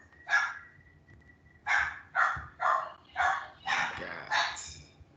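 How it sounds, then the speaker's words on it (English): A neighbour's dog barking, seven sharp barks, a single one followed by a pause and then a quick regular series, fairly close and loud against a quiet background. "that dog is driving me crazy"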